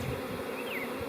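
A swarm of bees buzzes around a hive in a dense, steady, close hum, with no one speaking.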